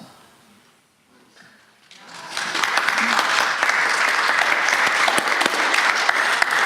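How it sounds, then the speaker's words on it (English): A near-silent room gives way to a sudden burst of audience applause at a public banking panel, which stays loud and steady to the end. "Since you have applauded, maybe I should leave it at that."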